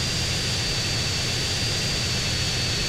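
A continuous airplane engine drone from GTA San Andreas, heavy and unbroken, a dense low rumble under a steady high whine, with no voices.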